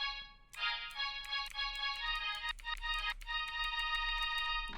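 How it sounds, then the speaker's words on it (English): Bright synth strings play rapid short marcato stabbed chords in a repeating rhythm, with brief gaps between phrases and no talking. "like a stabby string noise"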